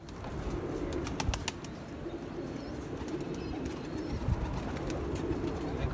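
Pigeons flutter and coo in a noisy outdoor setting, with wing flaps and faint calls over a constant low rumble of background noise.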